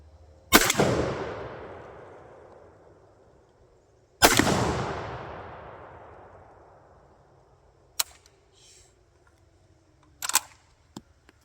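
A Lee-Enfield .303 and a Zastava M77 .308 rifle fire at an outdoor range: two loud, close shots with long echoing tails, several seconds apart, followed by fainter sharp cracks and knocks.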